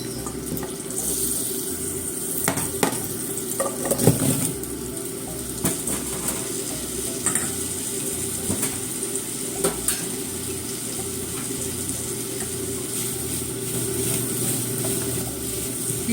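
Apple pieces fry in a frying pan with a steady sizzle. Occasional clinks and scrapes of stirring rise over it, close and at even loudness, with no voices.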